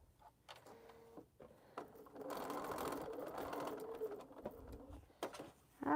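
A sewing machine stitches a quilted tote bag in a steady run of a few seconds, its motor hum rising in the middle and then trailing off, with small clicks and handling noises before and after.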